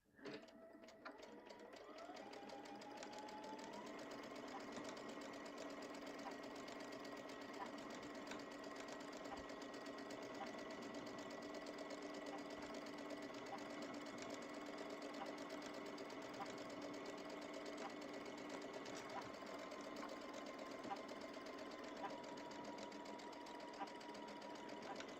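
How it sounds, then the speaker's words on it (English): A sewing machine stitches quilt patchwork seams in one long steady run, with a continuous close mechanical whir and rapid needle chatter that holds from start to finish. "here we are at the sewing machine"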